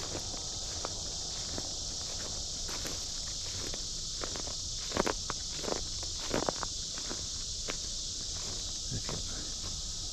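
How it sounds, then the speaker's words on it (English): A steady high-pitched insect drone hangs over the whole scene, cicadas singing continuously outdoors, with scattered faint clicks and rustles underneath. "cicadas are singing their love songs"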